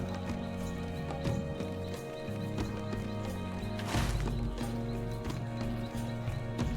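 A hobby horse mount trots in the online game LOTRO, steady rhythmic clip-clop hoofbeats up close over a layer of game music, without speech.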